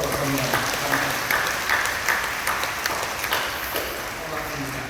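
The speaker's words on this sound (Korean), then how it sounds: "우리 학부형들에게 우리 박수하러 서로 격려합니다." A church congregation at a Friday night service claps for the parents, a loud, steady wash of many hands that stays even through the whole stretch.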